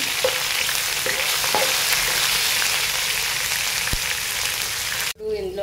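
Curry leaves sizzle loudly in hot oil with potatoes for a Telugu-style potato fry, a steady dense crackle with a few stirring knocks, cut off abruptly near the end.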